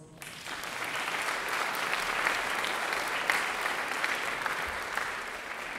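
Sustained applause from a concert audience, a dense even wash of clapping that swells in quickly and holds steady throughout, heard from within the hall.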